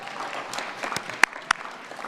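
Scattered audience applause at a school district event honoring student actors after a school theater production of Legally Blonde; soft, thin clapping with a few sharper individual claps standing out.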